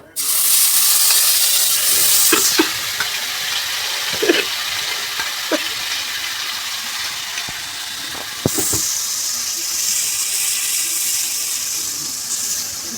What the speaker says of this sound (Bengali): গ্যাসটা কমিয়ে দিয়ে এবার আমি এটা মশলাটা ছাড়ছি